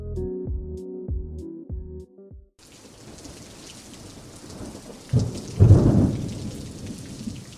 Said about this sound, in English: let's head outside and carefully approach the acidic rain